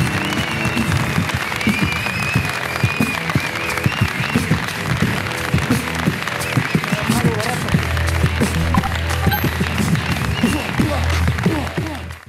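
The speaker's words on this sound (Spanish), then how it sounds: "Un aplauso para Ricardo y Griso." Studio audience applauding loudly and steadily at the close of a Spanish late-night comedy show, a dense wash of clapping that runs the whole time alongside music and voices.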